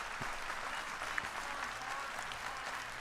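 Steady crowd applause, a dense even wash of clapping at moderate distance, holding constant throughout without voices standing out.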